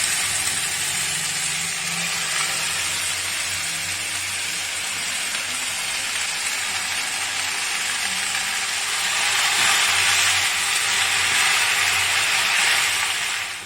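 Chopped jute leaves fry in a pan with jackfruit seeds, giving a loud, steady broadband sizzle that runs without a break and swells a little louder toward the end.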